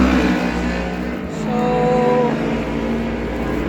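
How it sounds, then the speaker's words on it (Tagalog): Highway traffic rumbles past near a house, a continuous low roar of passing vehicles with one swelling engine tone midway, fairly loud and steady. "Pasensya na po sa ingay kasi nasa highway po ang bahay ko."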